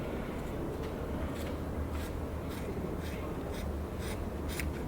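Scissors cut through material up close in a car workshop, a series of faint crisp snips repeating about every half second over a steady low background hum.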